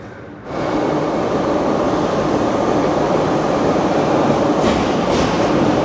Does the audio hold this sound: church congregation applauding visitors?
no